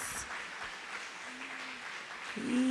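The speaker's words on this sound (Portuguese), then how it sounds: "Queremos aplaudir o Senhor na vida dela." A church congregation claps to welcome a visiting pastor, a steady, moderate round of applause that swells slightly near the end, with a brief tonal note over it.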